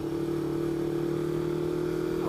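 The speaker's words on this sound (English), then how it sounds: "The bike runs." A motorcycle engine idles steadily right after its carburetor float bowl was removed and refitted, a constant close, loud hum with a firm low tone and no voices.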